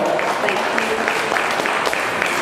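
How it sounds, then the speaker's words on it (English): Applause for an assistant at a live music event fills the room, a fairly loud, continuous patter of clapping from a modest audience, with a steady repeating tone threaded through it. "let's give Melissa, an assistant, another round of applause"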